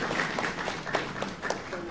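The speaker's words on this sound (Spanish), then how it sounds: "recibámosla con un fuerte aplauso" An audience welcomes someone speaker at a business and social media talk with a round of applause, the claps scattered and fairly close, while voices carry through the clapping.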